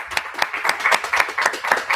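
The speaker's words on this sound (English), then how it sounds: "So let's give them a big round of applause." Audience applause at a community talk event, steady rhythmic clapping from a small crowd, close and fairly loud throughout, with no talking.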